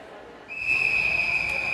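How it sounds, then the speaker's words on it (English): A whistle at an indoor swimming meet for a 500-yard freestyle heat gives a sustained shrill blast over a low crowd murmur in the pool hall. "We heard the whistle."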